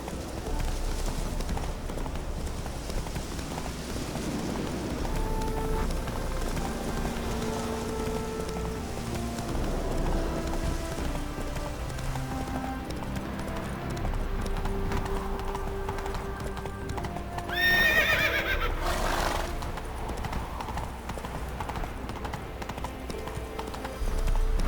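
Roach, Geralt's horse in The Witcher 3, gallops with steady rhythmic hoofbeats under a faint rain-like hiss and game music, while a voice speaks briefly over the hooves.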